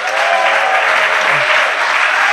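Loud, dense applause fills a church service as the congregation claps for Jesus Christ, a steady wash of hands with no gaps and no talk over it.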